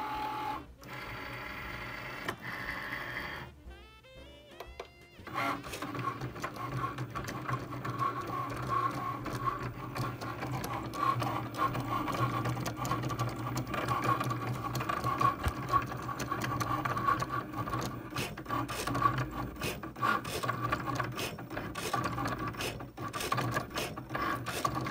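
A Cricut cutting machine slices heat transfer vinyl on a mat in a steady, close mechanical whir with rapid ratcheting and rasping of the carriage moving back and forth, running alone for about twenty seconds after a brief start-up.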